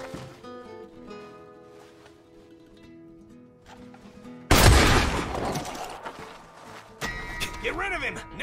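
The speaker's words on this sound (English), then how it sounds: "I'm going to shoot him now, I think." Video game gunfire aimed at a sheriff, a sudden loud burst of shots erupting after a quieter musical stretch, followed by noisy chaotic action, close and harsh.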